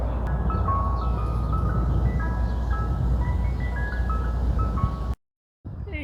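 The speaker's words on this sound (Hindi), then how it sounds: "और जो आप ये म्यूज़िक सुनेंगे यही इस आइसक्रीम ट्रक की पहचान है" Jingle music from an ice cream truck at Flushing Meadows Corona Park in Queens plays steadily and fairly loud beside traffic noise, then cuts off abruptly near the end before briefly resuming.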